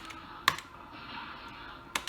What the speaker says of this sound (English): Press enter. I'll use the keyboard.